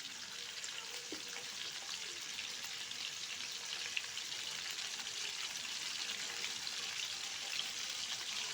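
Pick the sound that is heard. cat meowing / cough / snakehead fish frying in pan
snakehead fish frying in pan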